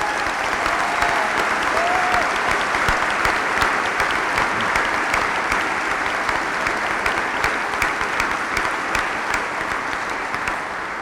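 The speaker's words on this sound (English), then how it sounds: "if everybody in the cathedral could clap for me, that would be fantastic." Audience applause fills Bristol Cathedral at an honorary graduation ceremony, a dense, steady clapping that stays loud for the full stretch and tapers only slightly near the end.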